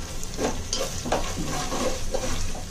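Kashmiri chilli masala being sautéed in a pan for spicy red misal curry, a continuous sizzle and frying hiss broken by a few soft stirring scrapes, with no talking.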